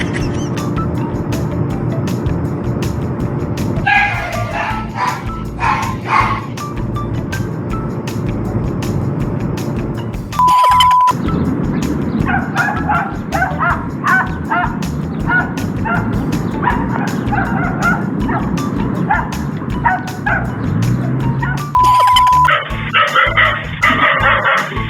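A guard dog barks repeatedly and loudly at close range, bursts of barks and yips mixed with whimpers, over a steady background of traffic and car noise with occasional sharp beeps.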